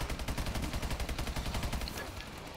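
Rapid LMG machine gun fire from the Exo Zombies game mode, a steady fast rhythm of loud close bursts running continuously for a couple of seconds before easing slightly.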